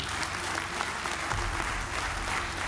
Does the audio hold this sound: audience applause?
yes